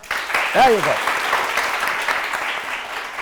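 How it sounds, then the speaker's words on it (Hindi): A studio audience on a morning TV show applauds with a steady, dense wash of clapping. A voice is heard talking over it. "तालियां जरा सही से बजाओ"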